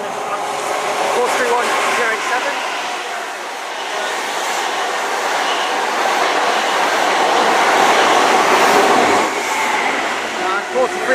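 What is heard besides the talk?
Great Western Railway train from Penzance to London Paddington passing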